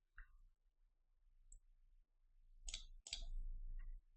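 A computer mouse clicks during game development work: a few faint, crisp clicks come in short bursts against near silence, with a brief low rustle between them.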